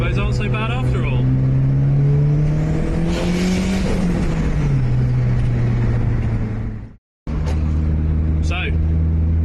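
A Volvo S40 T4 running a Holset HX40 truck turbo accelerates loudly from inside the car, its engine note climbing and dipping through a shift, then a short silent gap before the drone resumes, while someone talks over it.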